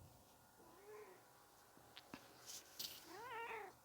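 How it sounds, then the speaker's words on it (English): A pet cat meows several times indoors, short rising and falling calls, fairly quiet and close, with small clicks and rustles between them and no talking. "So my cat is talking to me."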